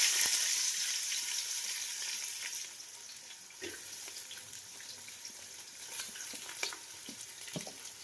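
Onions fry in a pan with a steady, close sizzle that is loudest at first, then settles lower with occasional clinks and stirring taps.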